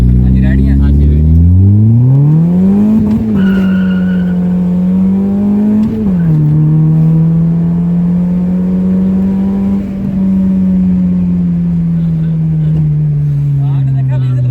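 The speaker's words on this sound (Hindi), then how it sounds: "अब पहले गेयर से भगा के दिखाता हूँ आपको" A car accelerating hard from first gear, its engine note climbing loud and close, breaking briefly at each gear change before settling into a steady, high drone.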